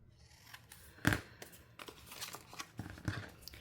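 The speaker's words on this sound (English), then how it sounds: "I see a little bit of extra white, so I'm going to cut that off." Scissors snip away excess white paper from a grungy bird papercraft piece, giving a few crisp close cuts with soft paper rustling between them, no voices.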